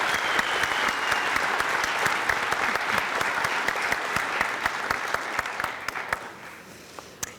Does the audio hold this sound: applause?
yes